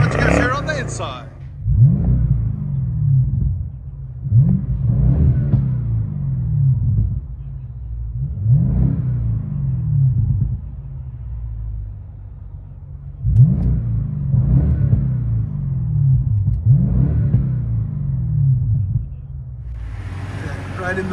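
A 2014 BMW 650i with a 4.4L twin-turbo V8 and muffler delete, heard from inside the cabin: a deep engine rumble rising in repeated rev surges roughly every couple of seconds, loud and close.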